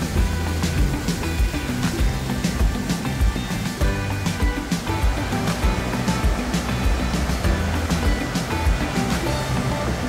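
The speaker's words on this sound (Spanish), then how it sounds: "El velo de la Novia es la caída de agua más caudalosa de la región Ucayali." The Velo de la Novia waterfall in Ucayali, Peru, roars steadily and loudly as a dense, unbroken rush of falling water with no pauses.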